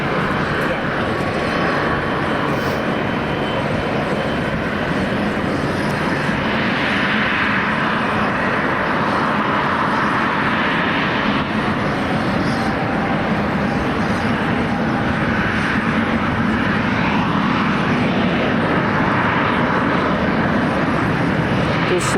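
A fixed-wing airliner lands at Amsterdam Schiphol Airport, giving a continuous loud broadband engine roar that holds steady throughout.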